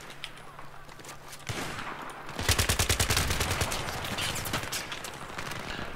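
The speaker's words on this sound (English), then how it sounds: "I don't know why he's shooting at me" Rapid automatic gunfire crackles in an online match of Battlefield 3, loud and near, with sustained bursts rising midway and continuing over background battle noise.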